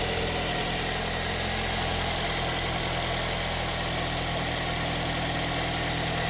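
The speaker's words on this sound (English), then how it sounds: "All right, so the engine is running right now." A 2009 Toyota Corolla with a 1.4L 1NZ-FE engine and conventional geared transmission idles steadily, a close, continuous engine hum with even vibration throughout and no talking.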